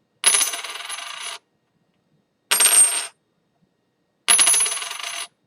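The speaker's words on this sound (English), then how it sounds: "this here clad piece is it's gonna ring to some degree, but it's gonna be a lower pitch" Silver and clad Eisenhower dollar coins are struck in turn for a ring test, giving three separate bright metallic rings, each sustaining about a second before fading, with silence between them.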